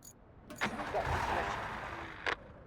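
The engine of a mid-sized truck starts up in the video game RoadCraft: a short crank, then a steady low rumble that settles in, with a brief mechanical clunk near the end.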